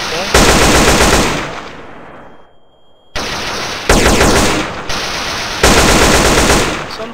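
Weapons-mod guns in GTA San Andreas fire in loud, close bursts of rapid automatic fire. Several sustained volleys are broken by a short quiet gap.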